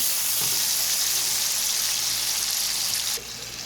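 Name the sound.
cabbage and green beans cooking with onions in a pan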